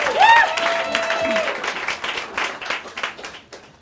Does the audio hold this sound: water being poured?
no